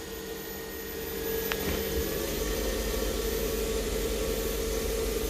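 A wood lathe spins a pen blank at about 3,000 RPM, giving a steady, even mechanical hum with a constant whine, plus a brief click early on.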